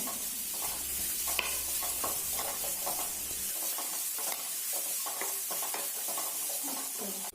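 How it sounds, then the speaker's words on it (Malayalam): Onion and capsicum sauté in a pan for a spicy Kerala cheese masala breakfast. A steady close sizzle runs throughout, broken by repeated scraping stirs of a spatula, with no talking. "വഴറ്റിയെടുക്കാം."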